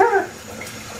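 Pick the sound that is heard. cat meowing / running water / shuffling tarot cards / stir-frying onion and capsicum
running water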